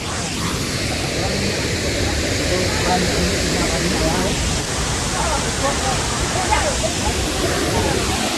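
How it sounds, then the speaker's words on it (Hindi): The large Krang Shuri waterfall roars as a steady, dense wash of crashing water, loud and constant throughout, with someone talking over it. "ये देखो कंसूरी वाटरफॉल इतना बड़ा है भाई।"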